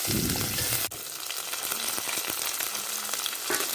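Shallots, green chilli and curry leaves sautéing in hot oil for a carrot stir-fry, a steady close sizzle with a few stirring scrapes and a brief dip near the start.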